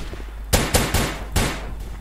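Fully automatic sniper rifle in the shooter game Combat Reloaded 2, firing four sharp loud shots in quick irregular succession, each leaving a short ringing tail.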